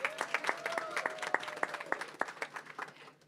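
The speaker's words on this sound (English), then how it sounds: "Round of applause for Dr. Scholes." Audience at a medical college panel session at Essence Fest breaks into applause, a dense patter of clapping hands that holds steady for a few seconds before thinning out, with a faint voice running beneath it.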